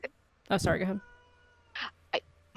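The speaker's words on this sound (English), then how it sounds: "that was my cat if you heard that" A pet cat gives a few short meows in a quiet room, faint and close, between bits of conversation on a podcast call.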